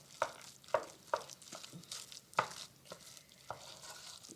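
A spoon stirring chopped onions into a bowl of homemade potato salad, with a run of distinct scraping, clacking strokes at an uneven pace, close by and with no talking.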